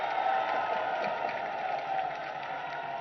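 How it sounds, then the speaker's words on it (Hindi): An audience at the BJP headquarters in Lucknow welcomes Yogi Adityanath with steady applause and crowd cheering, a continuous faint roar with a few scattered whoops. "एक बार योगी जी की तालियों के गड़गड़ाहट से स्वागत करिए"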